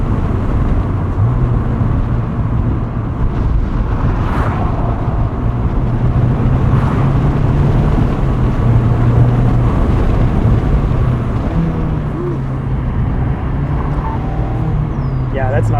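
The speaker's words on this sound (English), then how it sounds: "It's kind of that unique Miata sound that Miatas have always had, but a little bit more modernized" A 2024 Mazda MX-5 Miata ND3 Grand Touring engine hums steadily from inside the cabin while driving, a low continuous drone with wind and road noise, and people talk over it.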